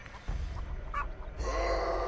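Chicken clucking in The Texas Chain Saw Massacre video game, a short burst of bird calls amid steady game ambience and rumble, mid-distance and moderately loud.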